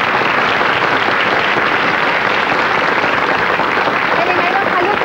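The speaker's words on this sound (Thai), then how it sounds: "ขอเสียงปรบมืออีกครั้งนึงค่ะ" Studio audience applause during a Thai comedy show, a steady, dense wash of clapping that stays even and continuous throughout, with no break or fade.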